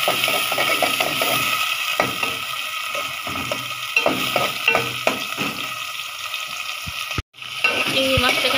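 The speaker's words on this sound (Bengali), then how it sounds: "চিংড়ি মাছটাকে আমি ভেজে নিতেছি, পেঁয়াজ আর চিংড়ি মাছ একসাথে আমি ভাজতেছি।" Prawns and onion fry together in a pan with a steady, fairly loud sizzle, broken by scraping stir strokes and brief clanks and a short drop near the end.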